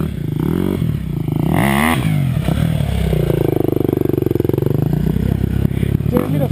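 Casey's Husaberg motorcycle climbs a hill in the Wendy's hill climb, its engine loud and close, revving up and down with harmonic sweeps and clattering, and brief voices in the background.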